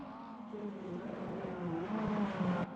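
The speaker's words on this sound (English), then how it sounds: "With that sounds of V8 in the Camaro." A Camaro's V8 roars in a Grand Touring racing game, a sustained droning engine note that rises slightly in pitch, steady and fairly quiet, then cuts off abruptly.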